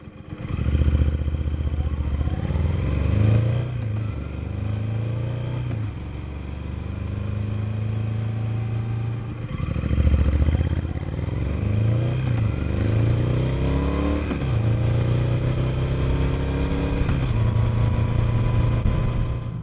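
A Triumph Speed Twin fitted with throttle spacers is ridden in rain mode, its twin-cylinder engine droning steadily close by, rising through the gears with rhythmic revving and shifts while wind rushes past.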